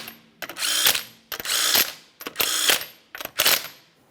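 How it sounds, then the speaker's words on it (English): A hand ratchet tightens the 19mm lug nuts on a 2012-2015 Honda Civic front wheel. Four close, loud bursts of rapid clicking are each separated by a short pause, with no talk over them. "Start on all 5 of your 19mm lug nuts,"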